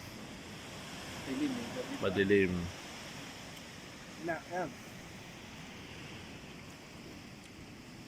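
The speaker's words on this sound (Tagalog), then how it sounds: "Yun yung dagat, di makita." Sea surf at a beach resort in Lian, Batangas, at night: a steady, low wash of waves running throughout, with a few brief spoken words over it.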